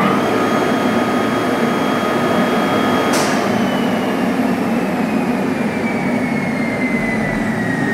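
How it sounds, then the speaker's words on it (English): An Anver VB4 3-kilowatt vacuum pump for a vacuum lift system runs with a steady, loud whooshing drone and no change in pitch, broken once by a brief sharp click. "you are gonna get a VB4 3 kilowatt vacuum pump."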